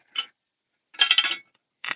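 Metal hitch pins and their little locking clips snapping into place on a tractor's 3-point hitch during trenching work: three close, crisp metallic clicks, the middle one a longer rattling clatter, with silence between and no talk.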